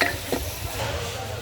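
Fish frying in a pan: a steady close sizzle with a brief stirring scrape and a couple of light knocks near the start, then even frying hiss continuing on its own.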